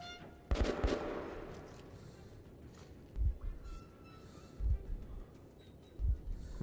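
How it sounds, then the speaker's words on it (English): Gunfire rings out around the player in the Metro 2033 Redux video game, with a sharp burst early on and then several faint, spaced bursts of shots that sound somewhat distant. "I'm getting shot at now"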